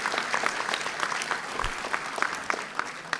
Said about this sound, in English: I think we should give them another warm hand of applause